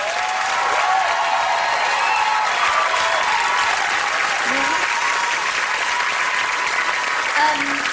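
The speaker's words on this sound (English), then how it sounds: "And a massive round of applause for Laura," A television talent-show studio audience applauds loudly and continuously for a contestant leaving the competition, a dense, sustained wash of clapping heard close and steady throughout.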